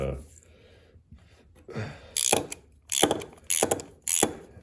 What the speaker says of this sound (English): You're gonna need a 3/8 socket or wrench, whichever you prefer.